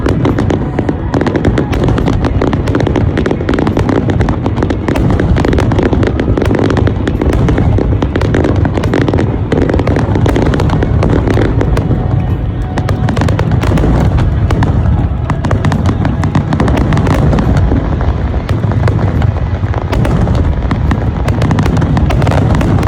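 The Shinminato fireworks finale in Toyama, Japan, is a dense, continuous barrage of booming bursts and crackling pops that roars loudly and without pause, with faint crowd voices blended underneath.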